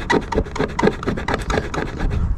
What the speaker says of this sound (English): I'm going to try and scrub this a bit more and see what I can do